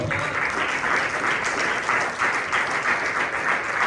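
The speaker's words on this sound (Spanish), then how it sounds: "Regalen una rueda de palmas al Señor." Church congregation applauding during a Bible study service, a steady, dense wash of many hands clapping throughout, fairly loud and continuous with no talk over it.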